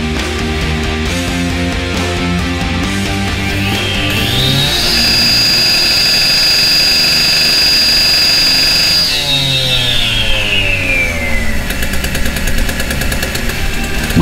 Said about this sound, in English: We notice that the machine limits its revs per minute.